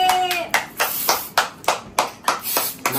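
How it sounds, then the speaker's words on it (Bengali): Group clapping at a birthday cake celebration at home, a run of about nine sharp, fairly even hand claps close to the listener, with a brief tone at the very start. "হ্যাঁ হাততালি হাততালি"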